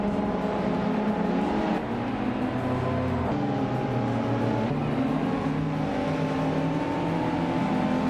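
Several race cars in a racing video game, engines humming and rising in pitch through repeated stepped gear changes, forming a continuous steady drone at moderate loudness with no voices.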